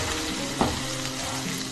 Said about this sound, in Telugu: ఇక్కడ ఆనియన్స్ గోల్డెన్ బ్రౌన్ కలర్లోకి రావాలి.